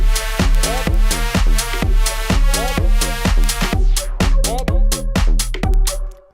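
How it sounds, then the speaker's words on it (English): A tech house mix built in Cubase 11 pounds along with a steady four-on-the-floor kick and bass, layered synth stabs, and a wash of white noise filling the top end, fading out at the end. "So just by adding that noise effect, it glued everything up. That white noise."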